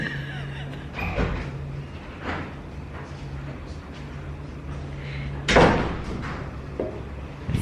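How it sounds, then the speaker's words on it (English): A door shuts with a sharp thud on a rainy day at a home birthday gathering, one clear impact standing out over steady background hum and faint rain. "And close the door, please."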